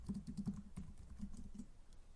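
Rapid, irregular keystrokes on a computer keyboard, close and fairly quiet, with short bursts and pauses as a message is typed.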